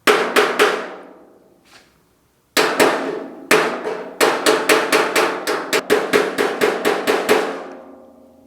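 A pointy screwdriver is tapped against a dented panel on a GTO restomod, sharp metallic taps ringing out in quick bursts with short gaps, close and loud.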